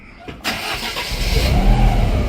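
A Lancia rally car, either a Stratos or a Delta Integrale, revs and pulls away close by, its engine note building to a loud, rising rumble after a brief sharp clunk.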